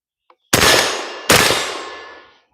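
An FN PS90 with an X-PRT 90 trigger fires two sharp, loud shots about three quarters of a second apart, and each one rings out and decays into the open air.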